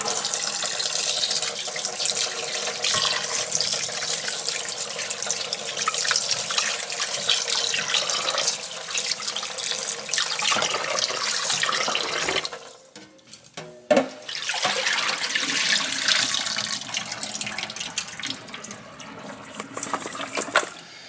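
Water runs steadily from a tap into a sink while pork neckbones are rinsed, with splashing and handling sounds, briefly interrupted before the flow resumes.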